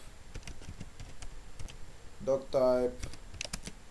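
Close, clicky keystrokes on a computer keyboard while HTML code is typed for a basic website, a quick irregular patter, broken briefly by a short voiced sound in the middle.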